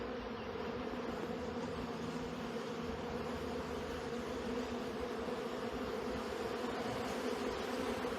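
Honeybees buzz steadily inside a crowded hive during an acacia honey harvest, a dense, continuous drone heard close up with no talking.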